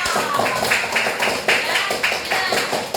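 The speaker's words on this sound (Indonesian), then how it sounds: "ya tepuk tangan buat Velo." A group of children clapping in applause, a steady patter of many hands close by over a noisy room.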